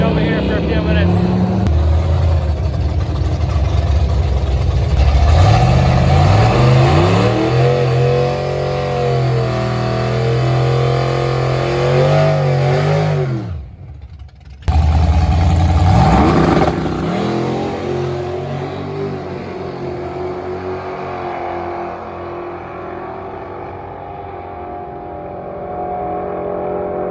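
AMC race cars at the AMC Nationals drag strip accelerate hard during time trials, loud engines rising through gear changes, a brief dropout, then another car roaring away and fading into the distance.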